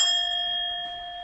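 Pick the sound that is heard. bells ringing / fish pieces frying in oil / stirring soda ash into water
bells ringing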